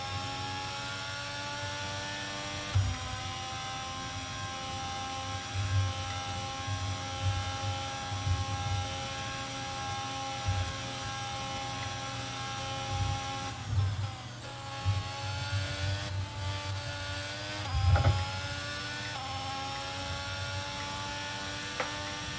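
An F1 22 racing car engine at a steady whining drone with constant harmonic tones, briefly dipping and rising with gear changes and a few thumps, heard from the cockpit.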